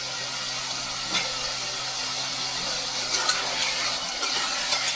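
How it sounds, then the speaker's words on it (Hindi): Potatoes added to cooked chicken hiss and sizzle steadily in a pan for several seconds, with a few louder crackles and clinks standing out over the constant frying noise. "तो आलू को जैसे थोड़ी देर के लिए भून लेते हैं अच्छे से।"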